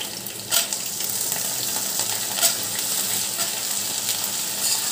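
Sliced okra fries in hot oil with nigella seeds, giving a steady, close sizzle and crackle. Occasional stirring scrapes break through now and then, with no voices.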